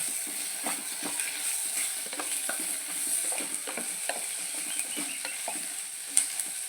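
Okra and green chillies fry in coconut oil in a pan, a steady close sizzle with soft stirring scrapes and clicks throughout, no talk.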